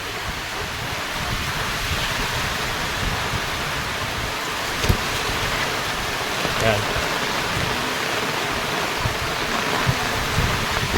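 Heavy rain pours steadily onto a backyard fishpond as a dense, continuous hiss with scattered drips and splashes, and a voice briefly speaks partway through.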